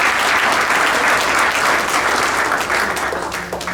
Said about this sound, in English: Please give a round of applause for her to showing us this courage.